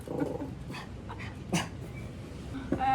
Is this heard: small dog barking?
yes